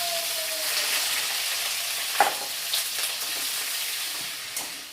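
Spinach sizzles and fries steadily in a hot pan, a close, continuous hiss broken by a few soft clinks and scrapes as it is stirred, with no speech.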